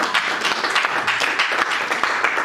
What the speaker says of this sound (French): On applaudit très fort pour la parole de Dieu.